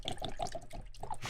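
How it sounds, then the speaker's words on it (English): Apple Crisp Whiskey pours into a glass close to the microphone, with soft liquid splashes and drips over about a second. "pouring ourselves a glass here."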